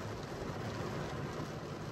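Steady rain falls on a family's beach campsite in Mexico, a dense, even hiss of drops that holds constant and fairly loud throughout with no voices.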